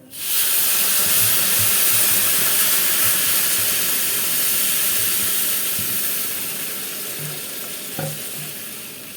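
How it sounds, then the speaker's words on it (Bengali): Water poured into hot roasted semolina for sweet halwa bursts into a loud, steady steaming sizzle that hisses on for several seconds, easing slightly near the end, with a faint clink. "এবার আমি জল দিয়ে দেবো।"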